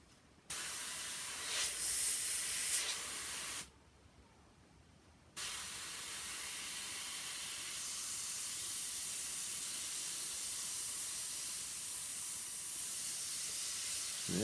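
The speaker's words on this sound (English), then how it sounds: "No, I think the airbrush just sucks. Because it is absolutely not working." A weak airbrush sprays a heavily watered-down mix, a steady broadband hiss that breaks off into near silence for a couple of seconds, then resumes and runs on unevenly.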